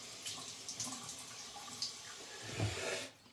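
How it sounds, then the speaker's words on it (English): Water splashing close by as a face is wetted before a shave, with running tap water and soft scooping and patting splashes over a few seconds. "I'll wet the face."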